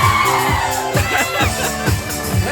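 A crowd of guests at a 60th birthday party cheering and shouting together over pounding dance music, a loud sustained burst.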